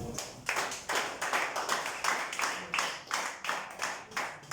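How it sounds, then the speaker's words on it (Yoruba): A church congregation claps hands in praise of Jesus, a steady rhythmic run of roughly a dozen sharp, evenly spaced claps at moderate volume with no voices over them. "ẹ pàtẹ́wọ́ fún Jésù"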